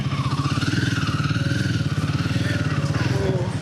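A Royal Enfield Himalayan 450 motorcycle idles close by with a steady, loud, pulsing thump during parking, running without pause throughout.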